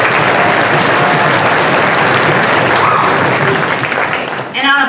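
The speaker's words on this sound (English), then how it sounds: "Can we please have a round of applause for our principal," An audience at a middle school spring band concert applauds the school principal, a loud sustained crowd clapping that tapers off at the end.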